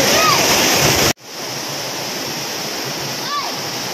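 A waterfall on a river pours down hard in a loud, steady roar that continues unbroken apart from one abrupt cut near the start.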